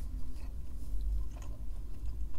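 Someone bites into and chews a Burger King Big King XXL burger with crunchy onions, a close, steady, muffled mastication with soft crunches and no talking.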